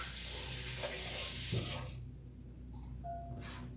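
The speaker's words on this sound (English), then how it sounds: "I'm gonna just wash my hands really quick." Hands washed under a running kitchen tap, a broad rushing stream for about two seconds that then cuts off, leaving quiet room tone with a faint trickle and a few light clinks.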